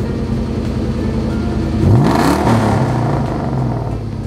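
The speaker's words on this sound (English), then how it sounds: "See, alternator's at 12, you give it a rev" A Ford Mustang with a swapped 4-valve engine and a suspect alternator regulator idles with a low rumble, then rises in a quick rev that sweeps up in pitch and falls back to idle, loud and close, with no voices.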